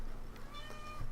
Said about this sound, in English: She just meowed at you guys.